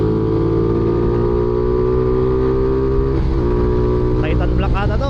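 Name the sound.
motorcycle engine passing, Honda Titan Black with open airbox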